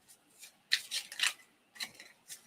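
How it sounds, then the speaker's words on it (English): A Psychic Tarot Pocket Oracle card deck is shuffled by hand in several quick, papery bursts with short pauses between them, close and fairly soft, with no talking. "I'm going to shuffle and pull the 3 cards for this particular reading."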